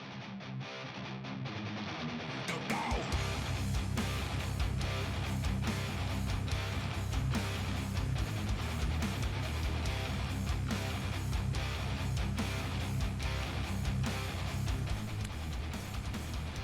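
A 2018 track plays from a record: dense, loud heavy rock with a driving low end and steady pounding drums. It kicks in after a quiet opening of a few seconds and runs without any talking.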